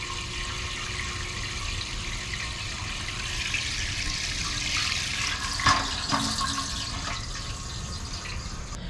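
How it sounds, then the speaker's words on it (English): Water pours into an old, roughly fifty-year-old canning pot in a kitchen, a steady rushing fill with a couple of brief louder splashes and knocks partway through. "We're going to fill this up with water"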